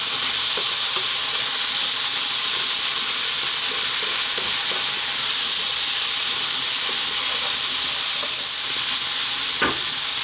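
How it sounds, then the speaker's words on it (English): Onion frying on high heat for an Indian-style potato curry, a loud, continuous sizzle and hiss close by, with occasional stirring scrapes and no talk. "We're now going to drop in our onion. I'm going to go for another 3 minutes on this high heat."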